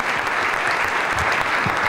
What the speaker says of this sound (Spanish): un aplauso para Julio Giver, presidente de Azona Ores